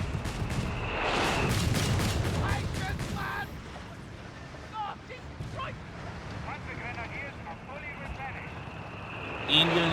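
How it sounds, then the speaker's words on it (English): Grenades from sappers going off amid gunfire and artillery in a Company of Heroes 3 World War II strategy battle: a loud, dense burst of blasts early, then scattered pops, thuds and crackling shots that continue at a lower level. "Sappers popping off their grenades there."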